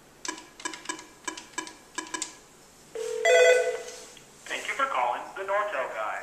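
A telephone line rings on a call into a Nortel voicemail system: several short repeated ring pulses, then a tone, followed by a recorded voice greeting.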